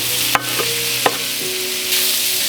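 Food sears on a Blackstone griddle in oil and butter at high heat for cheesesteak tacos, a steady close hiss with a few sharp scrape and clatter clicks from a spatula, and no voices.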